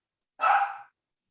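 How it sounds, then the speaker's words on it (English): A dog gives one short, sharp bark, close and alone, followed by silence. "and excuse my dogs"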